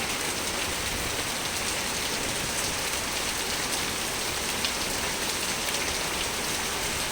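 Heavy monsoon rain pours down in Jammu, a dense, unbroken roar of drops hitting surfaces close by, with no voices.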